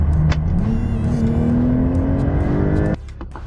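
A Porsche 911 Turbo S with an eight-speed PDK dual-clutch gearbox accelerates hard, its engine note climbing steadily and close through a quick shift before the revs drop sharply near the end.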